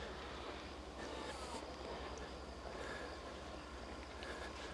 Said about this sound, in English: Another train whipping past behind us.